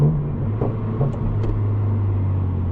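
A Toyota GR86 engine rumbles low and steady with faint cold air intake whooshes and small rises in pitch on downshifts, heard up close with no talking.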